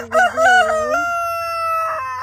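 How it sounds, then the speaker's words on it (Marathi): A rooster on a homestead farm crows once, loud and close, with a rising call that breaks into a long sustained tone and then trails off. "सगळे शेतावरचे प्राणी एक इकोसिस्टमच आहे अगदी ह्या कोंबड्या पण"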